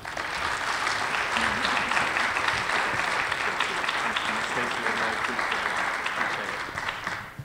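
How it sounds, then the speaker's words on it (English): A lecture audience at UW-Green Bay applauds a guest speaker being introduced, a dense, steady wash of many hands clapping that holds evenly from start to finish before tapering slightly at the end. "let's give him a wonderful applause"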